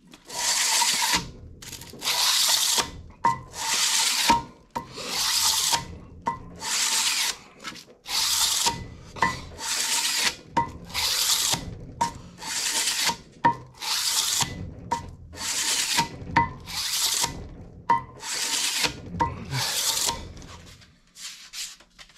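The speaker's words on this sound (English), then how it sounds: "So we're gonna start off with our 220 grit and just even strokes." Engine heads being hand sanded with 220 grit sandpaper, a long run of close, even rasping strokes in a steady back-and-forth rhythm with brief pauses, no talk.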